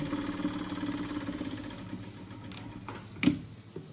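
An overlock sewing machine runs as it stitches tracksuit fabric, giving a steady close mechanical whir with fast rhythmic chatter that eases off partway through, ending in a brief clunk.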